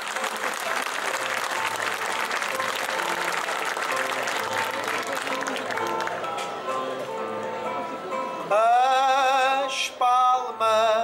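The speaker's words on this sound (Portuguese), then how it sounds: "que dessem uma salva de palmas a quem com tios tocadores." A round of applause for the musicians at a Portuguese cantoria singing event in Ponta Garça rises over the end of the music, dense and steady for several seconds. A sung or spoken voice carries on over it, then musical tones take over near the end.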